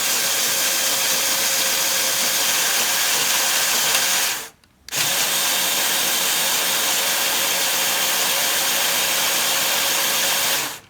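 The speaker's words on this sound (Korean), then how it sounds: "L모터 4개로 구동할 때 소리 들어보셨죠?" A LEGO Mercedes AMG GT model driven by four L motors makes a loud, steady whirring drone, drops out briefly once partway through, then resumes evenly.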